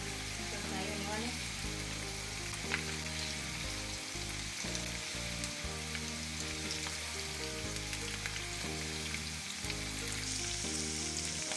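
Onions with garlic and ginger fry in a pan for chicken keema, a continuous bright sizzle, with music playing steadily underneath.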